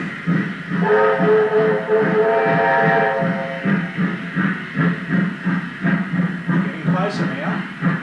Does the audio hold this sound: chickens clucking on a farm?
no